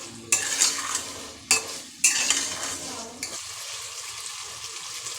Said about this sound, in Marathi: 2 मिनिटं चांगले अख्खे मसूर मसाल्यामध्ये परतून घेते